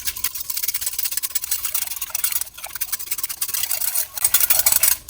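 Oil whisked into cake batter in a bowl, a steady brisk scraping and swishing stir that runs continuously, close and fairly loud, with a few brief pauses and no voices.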